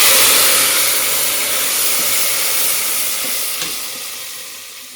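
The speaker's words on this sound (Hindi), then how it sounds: "गुरुजी ने दाल में ये तड़का लगा रहे हैं।" Loud hiss and sizzle of a tadka tempering being added to dal in an outdoor riverside kitchen, strong at first and slowly fading over several seconds, with no talk.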